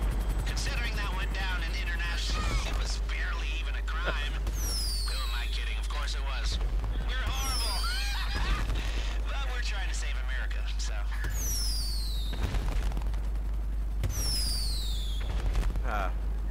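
Rapid whistling launches and crackling bursts from a firework launcher in Grand Theft Auto V repeat throughout amid constant rumbling game noise, with talking mixed underneath.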